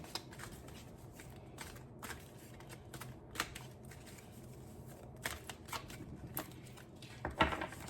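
Tarot cards are shuffled by hand for a love reading, a steady soft riffling and slapping that goes on throughout, close and quiet, with no speech.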